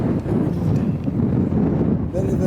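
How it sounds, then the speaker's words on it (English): A gale blows across open moorland covered in heather and dead bracken on the Long Mynd in Shropshire. It is a steady, heavy roar of wind buffeting the microphone throughout, close and loud. "Very, very strong wind."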